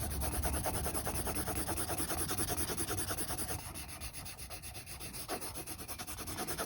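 Graphite pencil shading on paper during a cockatoo sketch, a steady close scratchy rubbing with quick repeated back-and-forth strokes, lasting throughout with no talking.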